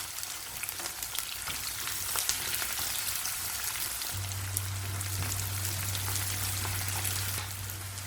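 Onion, fennel seeds, cardamom and cloves fry in hot oil for Chettinad chicken white kurma, giving a steady, close sizzle with fine crackling that holds on without a break.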